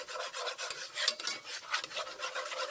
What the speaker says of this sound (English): mix up the flour